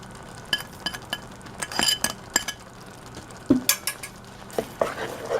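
A spoon stirs spices and herbs into meat sauce in a pot, with irregular scraping and metallic clinks over a faint sizzle, close by.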